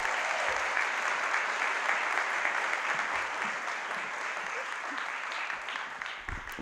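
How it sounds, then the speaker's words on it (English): Steady applause from an audience at an LGBTQ+ convocation at Phoenix College, welcoming the chancellor to the stage; dense and sustained, continuing evenly throughout and tapering slightly near the end. "Give her a round of applause"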